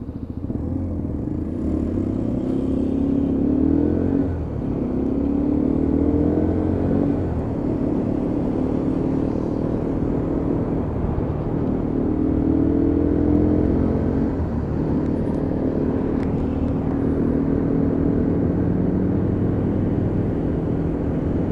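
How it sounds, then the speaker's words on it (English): A Lexmoto Venom 125cc motorcycle riding at speed, engine droning steadily with rising and falling pitch as the rider shifts through the gearbox and rev-matches down, wind rumble throughout, no speech. "And just pulling through the box again. And just rev matching it down, as you can see."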